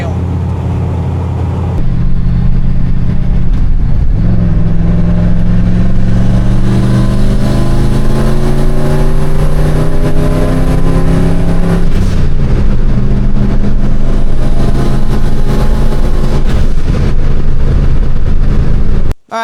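A turbocharged 331 engine in a 1976 Ford F250 accelerates loudly and close by, its note climbing steadily through a long pull, then dropping and rising again before cutting off abruptly.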